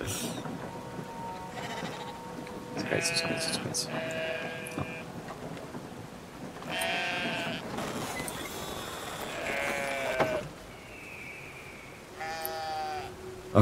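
Repeated sheep bleats in the video game Brothers: A Tale of Two Sons, several separate calls over a steady ambient background with brief talk between them.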